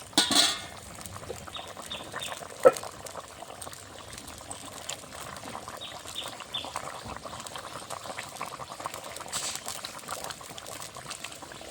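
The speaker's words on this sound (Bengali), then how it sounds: "ঝোলটা ফুটে উঠেছে, আলুটাও সেদ্ধ হয়ে গেছে।" Bengali fish curry gravy with potatoes, beans and eggplant bubbling steadily in a pot: a soft, continuous simmering burble close by, with a couple of light clinks near the start.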